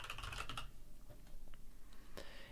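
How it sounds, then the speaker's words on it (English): Rapid typing on a computer keyboard, a dense burst of key clicks for the first half second, then sparser scattered taps. Close and fairly quiet, with no voices. "I will type in start a business"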